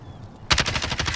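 Rapid automatic gunfire in the video game Warzone bursts in after a brief quiet moment, a close, loud string of shots continuing to the end.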